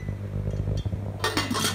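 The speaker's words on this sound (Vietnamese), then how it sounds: "Tao đậy vung vào." A metal lid clinks down onto a 4.5-litre thermal cooking pot of bones being stewed, a bright clattering set against a steady low hum from a stove.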